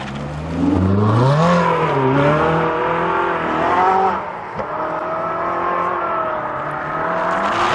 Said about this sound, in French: Ferrari 458 spécial qui arrive.